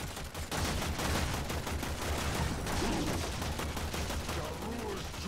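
Gunfire during a Warframe boss fight: a dense, continuous stream of rapid automatic shots, fairly quiet in the mix, with brief voices underneath.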